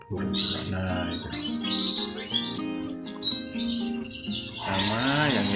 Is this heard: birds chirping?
yes